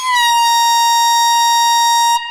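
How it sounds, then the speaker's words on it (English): A single loud air horn blast blares close and steady for about two seconds, a bright buzzing tone that cuts off abruptly at the end. "I've lost track of air horns tonight"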